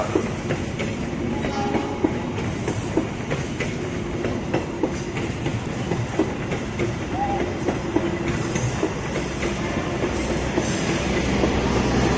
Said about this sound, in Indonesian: Jalur 1 akan masuk kembali KRL tujuan Jakarta Kota